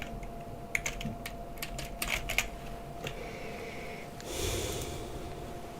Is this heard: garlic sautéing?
no